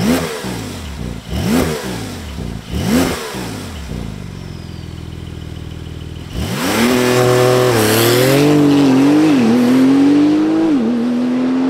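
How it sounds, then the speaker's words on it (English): A Porsche 911 Turbo Cabriolet. Its starter cranks in three quick pulses, then the idle settles briefly before the engine roars into a loud, sustained launch with rising, shifting revs close by. "let's fire this thing up and see how it launches."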